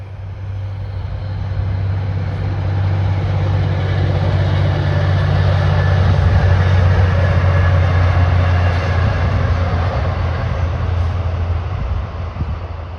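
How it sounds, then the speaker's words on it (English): A passing train near Heywood Meadow makes a steady, heavy rumble with a low droning hum that swells over several seconds and holds loud throughout, with no talking. "Here comes the train."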